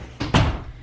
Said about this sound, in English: Charlie, can you close the door?